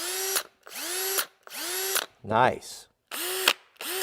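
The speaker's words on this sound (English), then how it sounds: "Milwaukee has a more of a precise sound. The gears sound better." A Milwaukee cordless drill runs in repeated bursts, close and loud, with a gear rattle and whirring spin-ups and spin-downs, plus a brief ratcheting clatter midway. A voice speaks once briefly.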